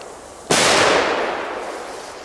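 A single Belgian firework goes off with one sharp, loud crack, followed by a long crackling, fizzing tail that slowly fades over the next two seconds.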